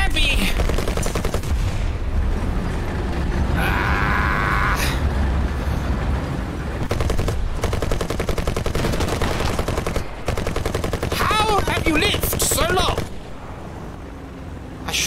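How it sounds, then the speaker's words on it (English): Cannon gunfire in a combat video game, dense loud bursts of rapid firing and explosions that run almost continuously, with voices talking over the noise. "Shot him with a cannon round."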